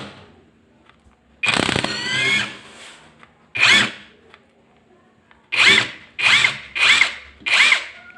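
A Topshak brushless impact wrench runs in reverse, sounding as a loud close whine with rapid hammering, first a long burst, then a shorter one, then four quick evenly spaced bursts with quiet gaps between.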